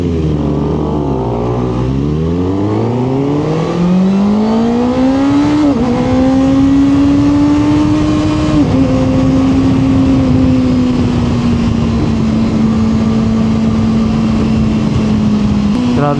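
A Kawasaki ZX6R 40th Anniversary limited edition sport bike engine revs up sharply, then settles into a high, steady idle-like drone, loud and close, with a few blips of the throttle and no talking.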